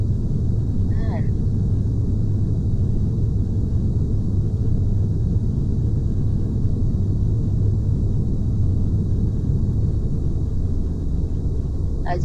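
Boeing 737-800 taking off in the FSX flight simulator game, a loud, steady low-pitched engine roar that holds constant throughout with little change in level, plus a faint brief chirp near the start.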